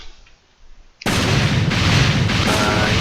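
Bombs thrown in the fighting game Creative Fighters burst in abruptly after a quiet moment: a sudden loud blast that rolls straight into a dense, sustained rumble of booms and crackles, up close and with no talk.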